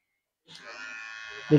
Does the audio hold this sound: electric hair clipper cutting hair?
yes